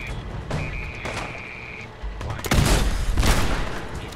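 Gunfire from AI enemies in Fallout 4, a clattering burst of shots and heavier blasts that swell loud in the second half of the clip, over a game's background hum.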